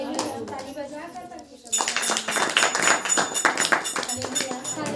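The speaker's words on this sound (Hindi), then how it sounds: "ताली बजाकर" A church congregation claps along during a Hindi worship meeting, sharp rhythmic hand claps starting abruptly and continuing steadily, loud and close, mixed with voices and some clattering.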